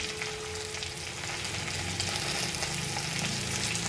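Ghee sizzling hard with buffalo leg meat in a pan, a steady, close, dense crackle and hiss holding at an even loudness throughout with faint stirring underneath and no voices.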